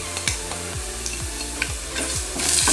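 Green chillies and onions frying in a pan for a Kuttanadan fish curry are stirred with a spoon, giving a steady sizzle broken by a series of scraping strokes at an even rhythm, close and alone without talk.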